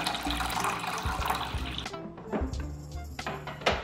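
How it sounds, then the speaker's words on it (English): Water runs into the tank of a Breville Barista Express espresso machine, a steady rushing pour with a few clunks and splashes as it settles, heard alone and close up. "Fill the water tank with water."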